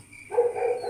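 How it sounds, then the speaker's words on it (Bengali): A single cartoon dog bark sounds from a distance on a quiet night, short and moderately faint. "মাঝে মধ্যে দূর থেকে কুকুরের ডাক শোনা যাচ্ছে।"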